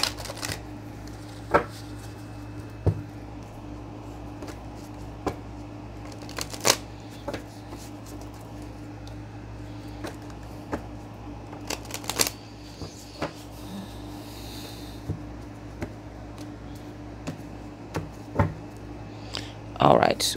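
Tarot cards being shuffled, soft papery riffles and flicks repeating through the stretch with a few sharper snaps, over a steady low background hum.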